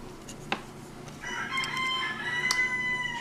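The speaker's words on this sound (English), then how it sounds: "Shut up, Rooster." A rooster crows once, fairly faint and somewhat distant, following a brief click, with no talking over it.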